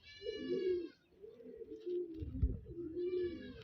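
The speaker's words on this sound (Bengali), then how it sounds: "ফেস বিউটি জোড়া পায়রা দেখুন কেমন লাগছে" A pair of black Face Beauty pigeons coo close by in long, throaty, rolling calls that repeat in three swells with a short pause between them.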